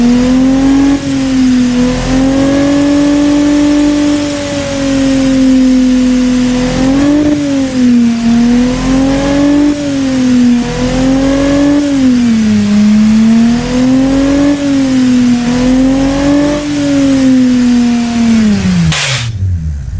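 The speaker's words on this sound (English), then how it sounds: "If the gearbox makes the engine RPM drops smoothly, not aggressively, the blow off valve will not kick in, and the boost will keep on coming" A 2.7L EcoBoost V6 replica engine revs steadily, its pitch rising and falling in smooth waves as boost builds over sustained, loud running, then drops away sharply at the end with a brief burst of noise.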